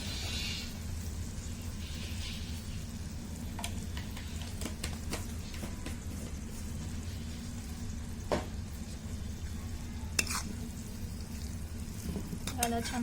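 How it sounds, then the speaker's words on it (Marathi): Garlic pickle is stirred in a kadhai after salt goes in, giving a steady low sizzle with scattered spoon scrapes and taps against the pan throughout, fairly quiet, with no voices. "त्याला छान हलवून घ्यायचं आहे"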